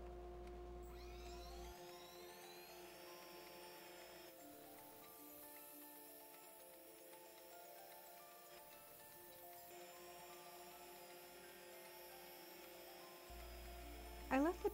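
A CNC router cutting the exterior profile of an acrylic workpiece, a steady high whine with shifting tonal bands that runs continuously and fairly quietly throughout.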